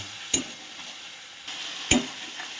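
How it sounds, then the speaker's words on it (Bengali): A spice paste cooks in a pan after a splash of water is added, for an okra and shrimp dish: a low, even sizzle punctuated by two sharp spatula scrapes. "এবার আমি মশলার বাটি ধরে একটু জল অ্যাড করছি এবার মশলাটাকে ভালো করে কষিয়ে নেব"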